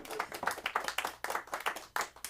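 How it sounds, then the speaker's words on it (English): Small comedy club audience clapping at a live stand-up show, a thin, uneven patter of hands from a modest crowd, moderately close and without cheering or talk. "I'd like to give a round of applause"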